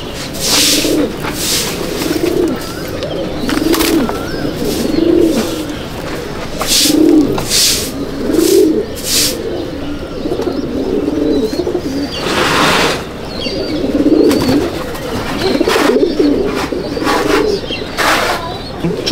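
Madrasi pigeons in a loft coo steadily in overlapping low phrases, with occasional sharp clicks and a brief flutter of wings among the birds nearby.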